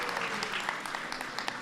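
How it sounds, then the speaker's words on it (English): Quiet, brief applause from a reception audience at a White House Hanukkah gathering, welcoming a musical group, with soft scattered clapping at a distance. "let's give a big round of applause to our musical guests"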